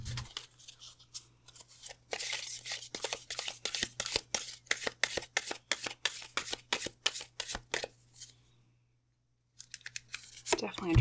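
Oracle cards being shuffled by hand in a quick run of crisp riffling flutters for about six seconds, then a short silent gap before more card handling, with a steady low hum beneath.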